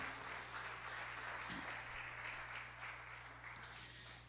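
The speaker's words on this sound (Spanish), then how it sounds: "Dale un aplauso al Señor, amado hermano" Church congregation at a Spanish-language service claps in praise, a soft, distant, even patter of hands over a low steady hum, lasting a few seconds.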